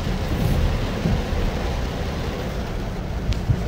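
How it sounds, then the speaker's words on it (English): Heavy rainstorm pouring onto a city street with overflowing puddles, a dense, loud, continuous roar of rain close by, steady throughout with no voices. "The rain is incredible, and it was worse before."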